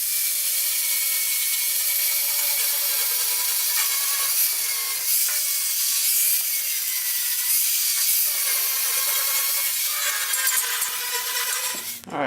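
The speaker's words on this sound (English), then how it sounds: "I'm going to go ahead and switch to a flapper disc style" A flap disc grinds steadily across pitted steel on a 1930 Ford Model A cowl panel, loud and close, a continuous high whine with slight pitch shifts that stops abruptly near the end.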